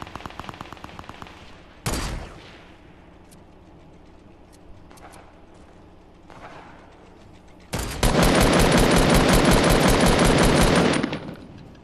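Rapid automatic gunfire in Fortnite, with a fast ticking burst at the start, a sharp blast, scattered single shots, then a long, loud, sustained volley close by.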